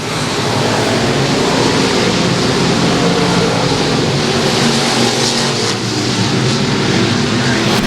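Race cars circling the oval at Battleground Speedway, racing three wide out of turn four: a steady, loud, dense roar of many engines held throughout, with no voices.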